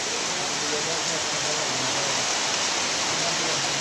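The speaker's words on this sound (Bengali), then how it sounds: "প্রচুর বৃষ্টি, প্রচুর প্রচুর, এমন বৃষ্টি আমার জীবন আর কোনো দেখিনি।" Very heavy rain pours down in a dense, unbroken roar of hiss and rumble. It is loud and constant throughout, like a waterfall.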